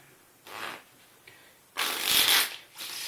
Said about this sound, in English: You can have the cards mixed up.